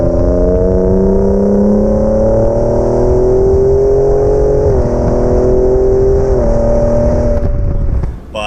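A 2019 Ford F-150 Raptor pickup engine revs steadily and climbs in pitch as it accelerates, loud and close, with brief gear-shift dips before easing off at the end.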